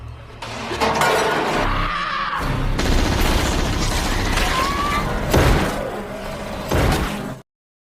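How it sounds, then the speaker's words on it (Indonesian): Glass smashed in a zombie film, heard within a dense, loud action soundtrack of crashes, bangs and impacts that continues for several seconds before cutting off. "Kemudian Chamber mendobrak kaca"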